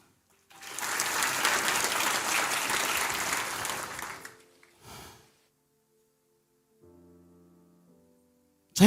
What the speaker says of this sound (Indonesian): Kamu boleh tepuk tangan nak.